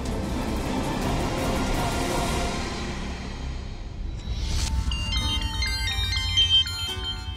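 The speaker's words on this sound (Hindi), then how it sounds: "फोन किसका आ गया सर?" A phone ringtone plays a repeating electronic melody, rising clearly after a stretch of low rumbling background noise, fairly close and with no talking.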